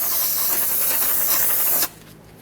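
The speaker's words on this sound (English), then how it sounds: "we're going to have to clean the surface of the rotor with brake parts cleaner" Brake parts cleaner sprays onto the front brake rotor of a 2006-2010 Hyundai Sonata. A single loud, close, continuous hiss lasts just under two seconds, then cuts off abruptly into near quiet.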